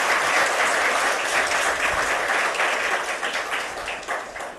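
Loud, dense applause from an audience at a ceremony with India's President, students of a visually impaired institute receiving low-vision glasses in Dehradun; continuous crowd clapping that gradually eases toward the end, no talking over it.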